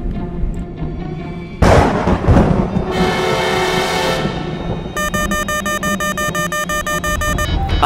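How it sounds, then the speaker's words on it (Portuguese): Thunder crashes during a storm as a lightning bolt strikes an aircraft: a sudden loud, rumbling crack rolls on for a couple of seconds, then gives way to a steady droning tone and a pulsing electronic alarm. "Fomos atingidos por um raio"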